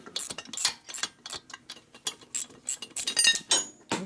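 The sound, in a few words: tightening bolts with ratchet during Harley twin cam camshaft install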